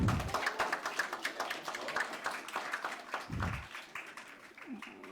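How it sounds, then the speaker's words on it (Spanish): Audience applause for a doctor being introduced at a university history faculty event in Sinaloa: a steady patter of many clapping hands, moderately loud, with brief low voice-like bursts mixed in. "Le damos un fuerte aplauso a la doctora."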